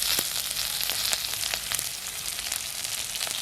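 Chopped onion and green chilli sizzle steadily in hot oil already seasoned with mustard seeds and fennel, a dense, continuous crackle with small spits and pops, close and fairly loud, no voices.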